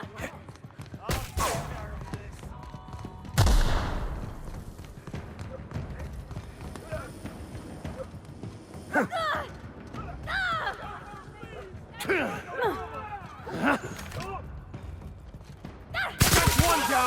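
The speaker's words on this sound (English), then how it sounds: "Open fire!" Gunfire in the sci-fi role-playing game The Outer Worlds: several loud, scattered bursts of shots ring out between stretches of shouting voices and busy combat noise.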